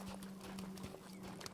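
A mare's hooves clip-clop in a quick, even walking rhythm during cattle-working practice. Over a faint steady hum, the beats sound fairly close but soft.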